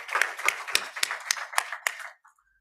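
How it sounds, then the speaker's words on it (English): At a research day event, a small audience claps for the adjudicators with distinct, fairly regular hand claps of moderate loudness that thin out and stop near the end. "Ladies and gentlemen, please let's give our adjudicators a round of warm applause."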